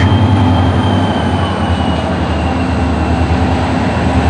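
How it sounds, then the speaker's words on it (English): A locomotive throttles up hard while switching cars at Denver North Yard, a loud, steady diesel roar with deep low rumble and sustained engine drone, close and continuous throughout. "he hits it hard just to get the power in to get moving and then lets it off"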